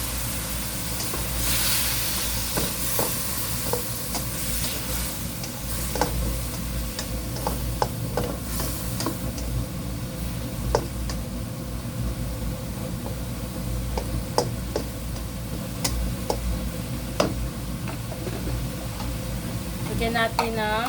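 Water hitting a hot pan of roasted duck and bitter gourd (ampalaya) stir fry, a continuous loud sizzle with scattered spatula scrapes and clicks throughout, and a voice talking at times over the frying.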